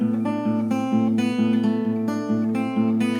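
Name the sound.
guitar fingerpicking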